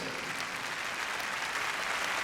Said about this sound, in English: Please, he deserves an applause.